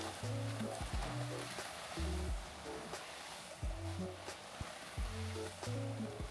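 A mixer churns resin and hardener for a resin-bound driveway or patio surface, producing a rumbling grinding drone with repeated low mechanical surges and a gritty wash, close and steady.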